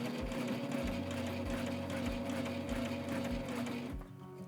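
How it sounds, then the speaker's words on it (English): A walking foot sewing machine stitches forward after a backstitch with a loud, steady mechanical hum and fast rhythmic thumping, up close, then slows and stops near the end. "So after you backstitch, you can go ahead and sew forward."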